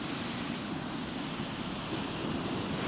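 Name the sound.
cold wind on Brighton beach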